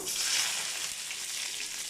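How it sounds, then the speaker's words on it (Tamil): Loud, dense sizzling of onions and tomatoes frying in a pan, a continuous crackling hiss close by with no talking. "வெங்காயம் போட்டு தக்காளி போட்டு ரெண்டையும் வந்து நல்லா வதக்கிக்கலாம்"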